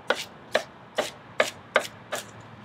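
An onion chopped into small pieces with a sharp knife on a board, six crisp, evenly spaced cuts about half a second apart, close and clear.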